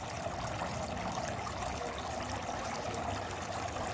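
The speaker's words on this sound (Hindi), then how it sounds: "झरने की आवाज़ आ रही है" Water trickles and splashes steadily down a homemade thermocol waterfall in a terrace garden, a soft, continuous, even wash with no voices.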